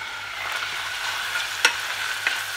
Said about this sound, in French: On ajoute les petits légumes. On va bien laisser fondre.